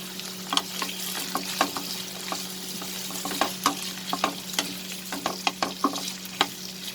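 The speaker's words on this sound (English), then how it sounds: "We will saute the onion for a minute." Onion and dried red chili sauteing in a pan for chicken stew, a soft continuous sizzle under a low steady hum, punctuated by frequent quick scraping taps of a stirring spoon, close and without talk.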